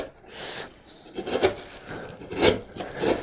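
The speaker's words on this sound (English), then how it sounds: "I'm gonna come in here with the larger 3/4 inch chisel, and I'm just gonna slowly pare down" A 3/4 inch chisel pares slowly down a wooden workpiece for a low angle jointer plane's escapement, giving soft rasping scrapes in several short strokes, close and fairly quiet.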